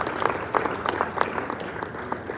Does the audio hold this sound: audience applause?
yes